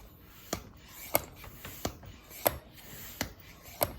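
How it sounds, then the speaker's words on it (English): Hand vacuum pump worked by hand, a series of faint, sharp mechanical clicks roughly every two-thirds of a second, each with a brief squeaky ratchet edge, close and quiet without talk. "Let's see what happens as I pump this pump."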